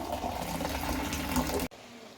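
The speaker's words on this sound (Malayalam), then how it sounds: "കപ്പ ഊറ്റുന്ന കാണിച്ചു തരാം." Water pours off boiled cassava in a kitchen, a steady loud gushing stream that cuts off abruptly near the end, leaving a quiet room.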